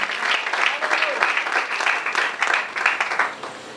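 A church congregation applauds for the Lord during a sermon, with loud, sustained clapping from many hands filling the room for several seconds.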